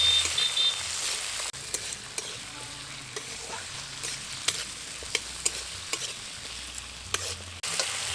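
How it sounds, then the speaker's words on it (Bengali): Chopped tomatoes sizzle in hot oil while a utensil stirs the pan. Scraping strokes come at an irregular rhythm over the steady frying hiss, heard up close with no talk. "ভালোভাবে আমি তেলের মধ্যে নেড়ে নেব"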